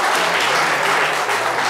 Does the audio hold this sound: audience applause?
yes